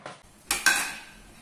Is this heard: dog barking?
no